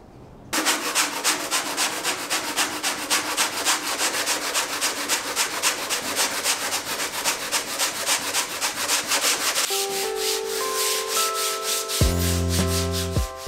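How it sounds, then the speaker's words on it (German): Steady rhythmic sanding of a fiberglass hatch, a loud scratchy back-and-forth rasp repeating quickly and close up, with a tonal whine entering near the end. "Ich schleife kurz alles an für eine wirklich ebene Ausgangslage."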